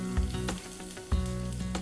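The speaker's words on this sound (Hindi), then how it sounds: "फिर आपने यहाँ पर लहसुन डालनी है जो हमने फाइनली चॉप करके रखी है" Finely chopped garlic sizzling in hot oil for an egg curry gravy, a dense continuous crackle with a couple of louder bursts, close and with no voices.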